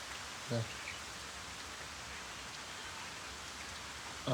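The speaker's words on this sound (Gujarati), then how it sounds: "અત્યારે જો વરસાદ રમસગડી શરૂ થઈ ગયો છે" Steady broadband hiss of heavy rain falling outdoors over farm fields, even and constant, with brief faint voice fragments at the start and end.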